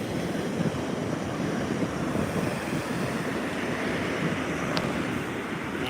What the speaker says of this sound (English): you'll get some pretty sizable wave action